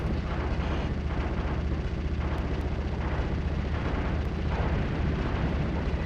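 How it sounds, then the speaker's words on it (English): Tiny's explosion in the video game Tiny Tank, a dense sustained roar of blasts and rumble that stays loud and steady throughout, with brief bursts rising out of the wash and no talk. "I think Tiny just exploded"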